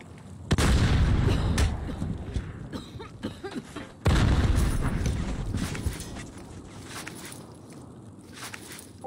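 Loud booming blasts in a competitive first-person shooter match, two heavy explosion-like impacts with dense rumbling debris and shots following, close and full.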